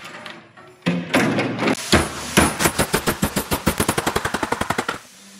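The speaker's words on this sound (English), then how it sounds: "Let's weld it." Welding on a metal plate for carbon fiber parachute tracks on a scrappy bush plane: rapid pulsing crackles that speed up into a dense, loud buzzing series of bursts close by, with no speech.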